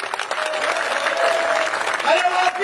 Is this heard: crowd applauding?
yes